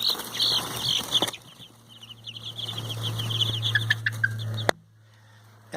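Chicks about two and a half weeks old peep and cheep in a cold-weather brooder, a busy, close chorus over a low steady hum that drops away abruptly near the end.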